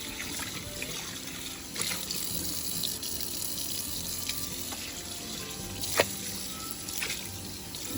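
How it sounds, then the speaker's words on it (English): Hot water runs steadily from a tap into a sink while a brand-new skillet is washed with soap, with a few light clanks and knocks of the pan against the basin; quiet, close and without speech. "we're just going to put some soap in there, fresh soap, and some hot water. Clean that brand new skillet out."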